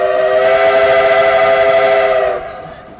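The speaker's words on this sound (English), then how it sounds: "I love to hear that whistle go by" A train whistle sounds a sustained chord-like blast, loud and steady for a couple of seconds, then drops away and fades out with no voices.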